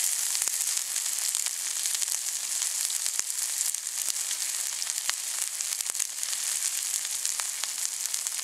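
Sausages sizzle over an Australian-style campfire barbecue, a constant bright crackling hiss punctuated by sharp pops and spits, close and alone without talk.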